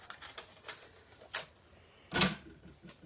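Scissors snip through paper for a gingerbread man treat box craft, a few faint close crisp cuts followed by one louder, longer slice near the end.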